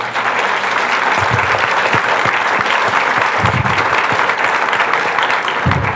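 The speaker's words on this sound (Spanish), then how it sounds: "Un fuerte aplauso, por favor." Loud, sustained applause fills a conference hall at an inaugural lecture at the Universidad Autónoma de Coahuila, dense steady clapping from a large audience lasting throughout with no pause.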